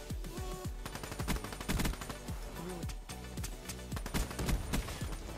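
Rapid gunfire from a Black Ops 3 multiplayer match on PS4, repeated bursts of shots with sharp pitch-swept game effects in a fast, busy rhythm, loud and close.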